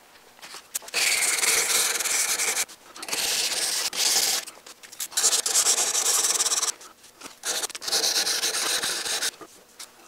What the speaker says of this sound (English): go back to the 320 grit, and then I'll finish it off with a 600 grit